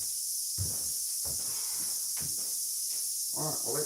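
Cicadas buzz in a loud, steady, high-pitched drone that fills the whole stretch around a workshop, with scattered low knocks and clatter underneath.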